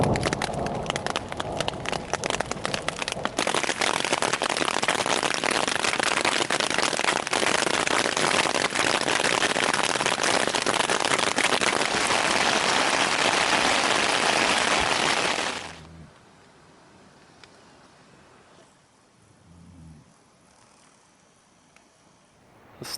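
Heavy storm rain drums steadily on a backpacking tent at Allsop Lake in the High Uintas Wilderness, loud and continuous, then abruptly drops away to near quiet.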